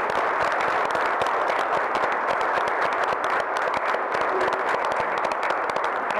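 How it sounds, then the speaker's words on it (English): A room at a village council meeting applauds EMTs, many hands clapping in a steady, dense, sustained round at even loudness for several seconds, with no talk over it. "Let's have a round of applause for our EMTs."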